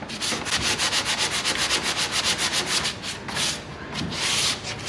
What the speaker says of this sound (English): I have another 5 windows to sand before I'll go back and fill wherever